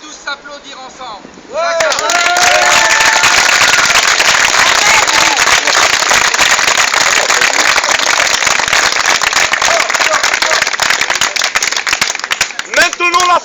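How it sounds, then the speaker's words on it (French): A crowd at an outdoor political rally applauds together, dense sustained clapping and noise that starts abruptly after a brief voice and runs loud and steady, with a voice returning at the end. "et on peut tous s'applaudir ensemble."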